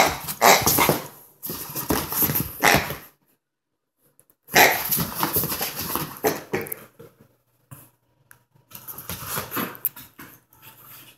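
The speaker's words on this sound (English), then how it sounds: "don't bark." A dog barks loudly and close by in rapid bursts, with clear pauses between the volleys.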